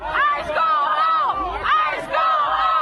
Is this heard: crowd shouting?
yes